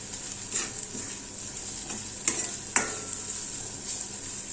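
Coriander and turmeric powder stirred into mutton curry in a pan, Kerala style: a steady soft sizzle with a few scraping spoon strokes, moderately close, no voices.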